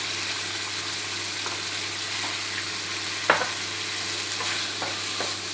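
Sausage frying with chicken in a pan for fried rice, a loud continuous sizzle with a sharp clank or scrape now and then, close up and without speech.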